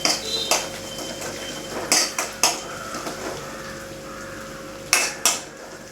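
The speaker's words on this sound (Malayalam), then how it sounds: "നന്നായിട്ട് വഴറ്റണം." Asafoetida being sautéed in a pan, heard as a few sharp metallic clinks and scrapes of a spoon against the pan at irregular intervals over a quiet hiss, close by with no talk.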